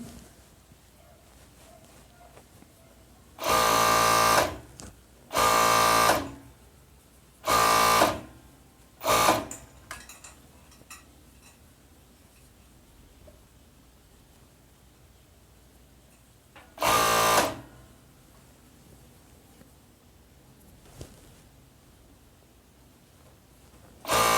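Sewing machine stitching the crotch and inseam seams of women's pajamas, running in several short loud bursts of a few seconds each, separated by quiet pauses, close by.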